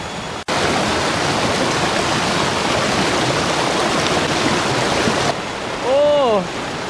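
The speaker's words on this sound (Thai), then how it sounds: "ฟังเสียงน้ำตก" Steady, loud rush of a waterfall at a Chiang Mai homestay, a dense, unbroken roar of falling water that drops away near the end as a few short, bird-like chirps come through.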